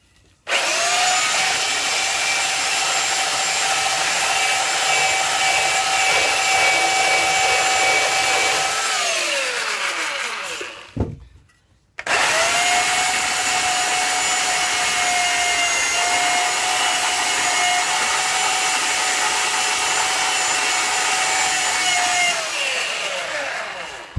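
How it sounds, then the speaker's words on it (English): A loud, steady power tool grinds and shapes a guitar neck made from construction-scrap wood, running in two long sustained passes separated by a brief stop around the middle. "I'm gonna have to get out the power tools."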